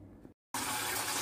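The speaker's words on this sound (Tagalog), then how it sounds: "huhugasan na natin ang ating mushroom" Tap water runs over pink oyster mushrooms as they are washed: a faint trickle, a brief silent break, then a loud steady gush of water that continues to the end.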